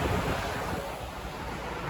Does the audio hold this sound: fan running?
yes